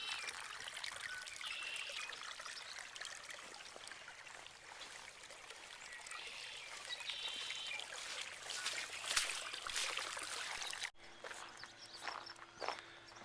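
Water trickles quietly and steadily into a section, a faint continuous dribble in an outdoor setting, ending in a short quieter stretch.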